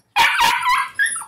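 A young shepherd puppy from a litter of four gives a few sharp, high yips and barks up close, in quick succession within about a second.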